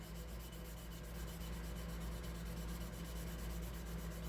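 Fine 1500-grit sandpaper rubs over mold lines in a steady, soft, continuous scratching hiss, close and fairly quiet, with no talk.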